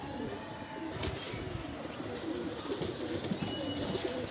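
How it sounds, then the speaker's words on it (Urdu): Pigeons, including a golden pigeon, coo softly and repeatedly in the background, low murmuring calls amid a faint outdoor hum. "یہ گولڈن کبوتر ہے"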